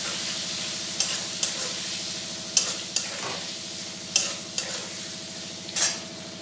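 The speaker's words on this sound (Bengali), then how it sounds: "স্বাদ মতো নুন দিয়ে আলুগুলি বেশ লাল করে ভেজে নেব।" Salted potatoes fry in oil in a pan with a constant close sizzle, punctuated by about seven sharp spatula scrapes at irregular intervals as they are stirred.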